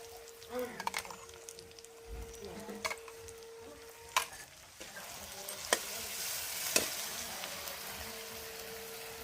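Cumin, chili and black and white seed paste hitting hot oil in a pan: a soft, sputtering sizzle that swells louder toward the end, broken by a few sharp clinks of utensils, with no talking.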